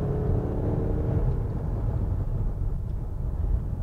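A 2019 Mazda CX-5 diesel accelerates hard under full throttle, giving a deep, steady low rumble with a rising engine tone early on and a dense drone from inside the cabin.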